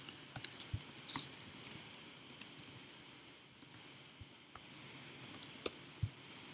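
Light keyboard typing at a computer during an online webinar, soft irregular key clicks in short bursts over a quiet background, fairly close but faint.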